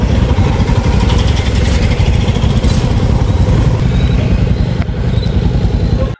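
A motorcycle engine runs loud and close for several seconds with a steady, rough roar that stays even throughout, then cuts off abruptly at the end.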